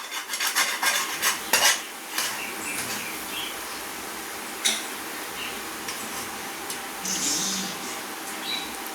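A utensil scrapes and clinks against a pan as ginger thokku is stirred, with a soft sizzle underneath and irregular metallic taps.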